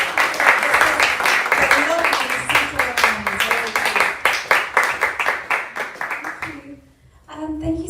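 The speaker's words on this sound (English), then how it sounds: "if you could all give a big round of applause" An audience applauds to welcome a speaker at a talk, steady loud clapping from a crowd lasting several seconds, then dropping out briefly before a few scattered claps resume.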